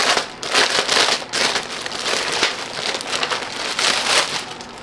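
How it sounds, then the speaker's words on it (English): Plastic packaging crinkles and rustles in continuous bursts while cross-stitch kits are unboxed, close and fairly loud with no talking. "All right, crinkling."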